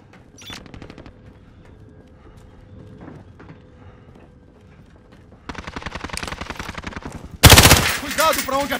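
Rapid machine-gun bursts in a Warzone match, quiet clicks and movement giving way to sustained loud automatic fire, then a sharper, louder volley close by.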